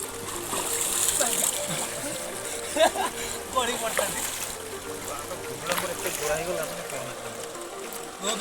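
Water splashes and burbles nearby in a cold stream while people talk over it, with scattered louder splashes.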